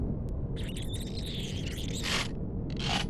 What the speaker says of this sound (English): That noise is the scorpions.